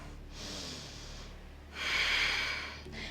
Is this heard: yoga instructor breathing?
yes